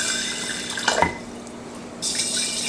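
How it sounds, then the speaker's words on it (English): Water is poured into a mason jar of sprout seeds, a brief splashing trickle that pauses and then resumes as a steady pour, close by. "I'm going to pour some water in."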